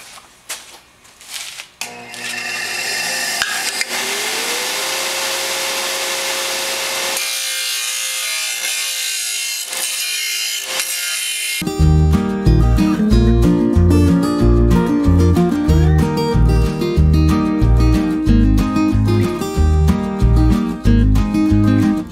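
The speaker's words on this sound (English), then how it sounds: "I'll take it over to the disc sander. I'll just kind of kiss off some of the rough spots" A disc sander grinds rough spots off a metal spill can being fabricated for TIG welding, first a steady rasping hum, then loud rhythmic scraping and rubbing of metal against the disc, close and without talk.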